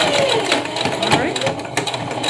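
A sewing machine stitches fabric for a homemade face mask, a steady whirring motor run lasting throughout at close range, with a person talking over it.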